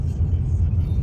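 Cars passing on a road in Côte d'Ivoire, a loud continuous low rumble of traffic heard close by without a break.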